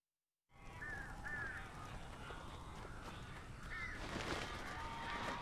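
Crows caw several times in the horror game Alan Wake, brief harsh calls rising over a steady, dense ambient rumble that fills the whole scene.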